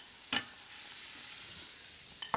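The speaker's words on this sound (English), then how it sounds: "That's exactly the sizzle I'm looking for." Steady, quiet sizzling of scallops searing in a hot pan, with a few sharp clicks and scrapes near the start and end.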